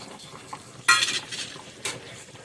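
Fried okra goes into a pot of Sindhi kadhi and is stirred, a spoon scraping and clinking against the pot in a couple of short, bright bursts over a quiet simmer.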